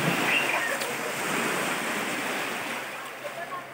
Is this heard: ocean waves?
yes